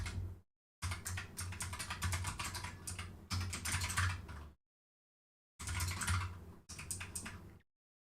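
Brisk typing on a new computer keyboard, dense clattering keystrokes in several bursts separated by short silent pauses, close and clear with no talking.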